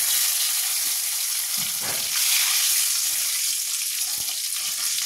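Curry leaves, cumin seeds and two bay leaves sizzle and crackle in hot oil, a steady close frying hiss with a few soft stirring knocks and no talk.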